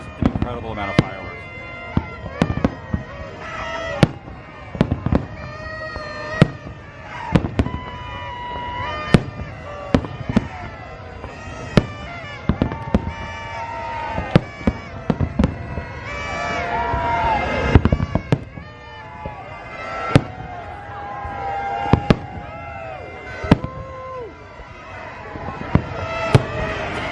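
A long stretch of Disney World New Year's Eve 2022 fireworks, with repeated loud bangs and crackling bursts coming every second or two, under steady excited chatter from nearby spectators.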